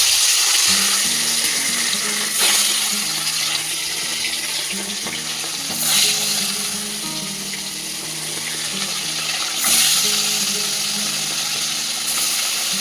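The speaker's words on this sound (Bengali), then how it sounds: "মাছ ভাজা তো আমার হয়ে গেছে" Continuous loud sizzle of frying in hot oil, with a low steady hum underneath and occasional swells of crackling.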